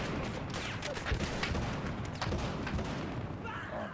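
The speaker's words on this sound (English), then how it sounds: "No, I'm getting shot at." Gunfire rattles through a Battlefield Hardline multiplayer match: dense bursts of shots and distant booms crackle continuously at moderate loudness, with a faint voice underneath.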